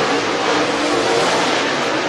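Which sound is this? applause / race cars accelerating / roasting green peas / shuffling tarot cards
race cars accelerating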